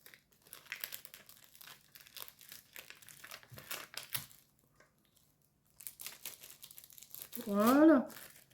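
A sticky paper envelope being handled while making an embellished card, giving close, intermittent crinkling and peeling rustles in short bursts with quiet gaps, plus a brief squeaky rubbing near the end.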